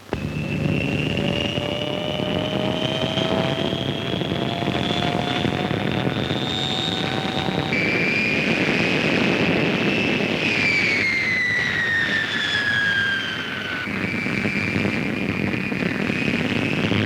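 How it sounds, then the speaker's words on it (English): A de Havilland Comet airliner's jet engines run up on the ground, loud steady turbine whine with rising and shifting high tones as power changes, sustained throughout with no voices. "Engine runs occupied the first afternoon."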